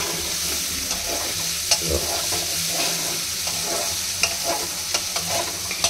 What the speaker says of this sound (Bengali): এবার ওই হাফ সেদ্ধ করা যে গাজরটা ছিল ওইটা ক্যাপসিকাম দিয়ে নাড়া